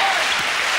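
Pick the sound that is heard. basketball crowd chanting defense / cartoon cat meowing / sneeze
basketball crowd chanting defense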